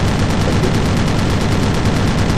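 Gunfire in the military video game Squad, a dense, loud burst of rapid shots with no pauses, sounding up close and filling the short moment.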